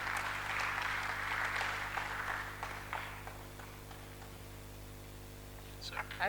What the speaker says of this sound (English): let us appreciate all the presenters as we clap for them